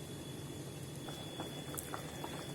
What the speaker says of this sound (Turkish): Çorbam kaynadı.